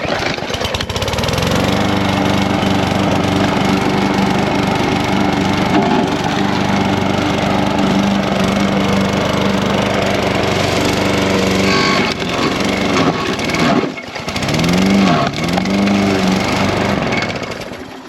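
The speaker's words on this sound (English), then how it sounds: "Let's do a little mowing." A gasoline push lawn mower cuts grass with a loud, steady engine drone, the pitch briefly dipping and surging near the end as the load changes.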